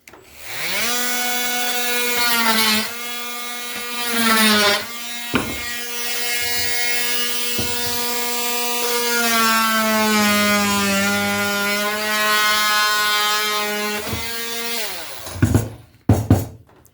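A cordless power rasp whines at a steady high pitch shaping wood, rising and dipping slightly as it cuts, with brief pauses and a few clicks near the end.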